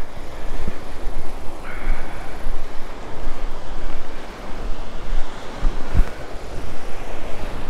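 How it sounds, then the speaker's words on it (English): Wind-driven waves roll and wash continuously on Granger Lake, a steady broadband surf with gusty wind noise buffeting the microphone throughout, no voices. "look at those waves just a rolling"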